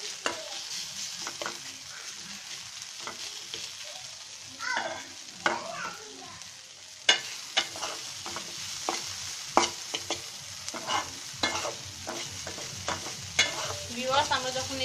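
Onions and coriander leaves frying in a pan for a coriander-leaf mash, with a steady low sizzle broken by frequent sharp scrapes and clatters of stirring, close and fairly loud, no talking.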